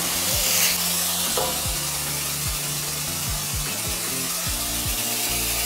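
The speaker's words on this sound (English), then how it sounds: "we add in the anchovies, the olives, and the capers" Anchovies, olives and capers fry in garlic-infused oil for a pasta puttanesca, giving a loud, continuous sizzle with repeated scraping strokes of a utensil across the pan.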